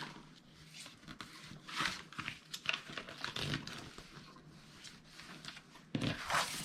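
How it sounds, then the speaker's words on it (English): Paper glue flaps of a nesting box are folded inward by hand, giving soft, close crinkling and rustling with small creases and taps, faint and uneven throughout. "I am just going to take my glue flaps and just fold them back inward."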